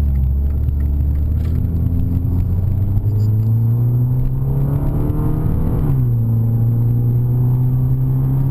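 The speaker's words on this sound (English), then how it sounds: "The Abarth 500 is Fiat's flagship in terms of performance." A Fiat Abarth 500 engine rumbles loud from inside the car, its tone rising steadily as it accelerates along a familiar road, then dropping sharply at a gear change and climbing again.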